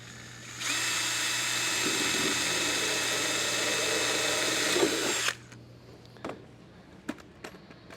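A rivet tool drills and sets rivets into a sheet metal tool holder, a steady whirring for about five seconds that stops abruptly, followed by a few sharp clicks and taps.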